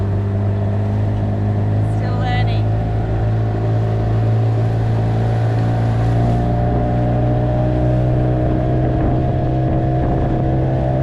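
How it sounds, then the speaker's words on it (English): A large boat's engine hums in a deep steady drone as it approaches, loud and continuous with wind buffeting the microphone and a brief higher whine partway through. "The big boat's coming in."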